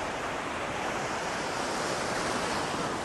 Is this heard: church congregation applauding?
no